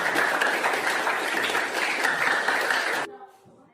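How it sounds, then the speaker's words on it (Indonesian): A junior high school class claps together in steady, dense applause for about three seconds, then stops abruptly, leaving a quiet room. "Oke, kita tepuk tangan bersama."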